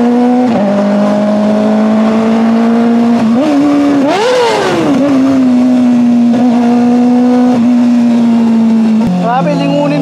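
A Kawasaki ZX-4RR sport motorcycle engine runs loud and close for the whole stretch, holding a steady high idle with a sharp rev swell in the middle and smaller blips near the end, while people talk over it.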